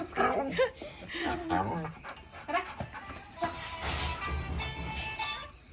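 A dog struggling to breathe pants heavily in quick rhythmic breaths close by, while people talk over it throughout.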